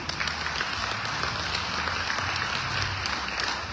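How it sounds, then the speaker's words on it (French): Applause from the audience at a mayor's New Year's greetings ceremony in France, a dense, even roar of clapping that carries on without pause and with no voices on top. "un grand merci de l'applaudissement pour eux"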